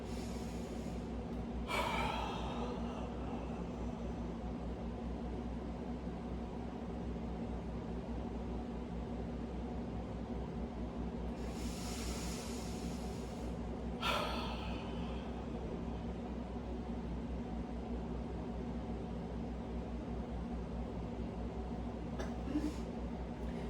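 Quiet room hum with a few breathy bursts spaced apart, slow inhales and exhales heard alone and fairly close.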